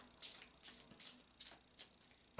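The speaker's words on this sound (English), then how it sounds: "I'm going to go ahead and shuffle the cards." Oracle cards shuffled by hand, about six soft papery riffles in a steady rhythm, close and quiet.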